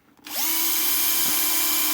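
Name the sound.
power drill drilling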